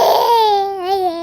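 A baby cries and shouts in a single close, loud wail with a strained, wavering pitch that slides downward.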